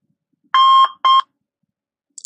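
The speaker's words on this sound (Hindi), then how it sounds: "okay, timer" A countdown timer alarm during an online mock exam class gives two loud electronic beeps with a short gap between them, then falls silent. A faint sound follows at the very end.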